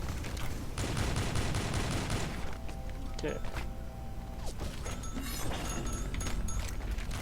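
Gunfire bursts in the Avatar Star Taiwan shooter game, rapid mechanical clattering shots dense in the first few seconds then scattered bursts amid game noise, with someone talking over it.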